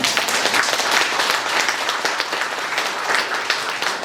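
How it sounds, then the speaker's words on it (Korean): A church congregation at a Sunday Eucharist applauds, steady dense clapping from many hands filling the room evenly throughout without pause. "박수 한번 보내주시죠"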